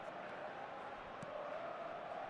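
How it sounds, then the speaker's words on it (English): Simulated stadium crowd in the football video game eFootball 2024 on PC, a faint, steady wash of cheering and murmur filling the background with a brief louder swell midway. "Well, the crowd clearly like what they just saw."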